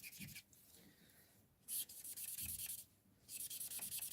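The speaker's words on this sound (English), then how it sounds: "you can just colour your background a bit" A marker pen in light blue colours in a background on paper, making close, soft, scratchy strokes in repeated bursts separated by brief pauses, with no talking.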